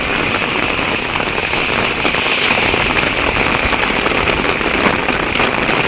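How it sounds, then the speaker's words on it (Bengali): Heavy storm rain pours down steadily and loudly, a dense continuous hiss of drops on surfaces lasting throughout with no voices. "এই প্রথম এত বৃষ্টি দেখলাম"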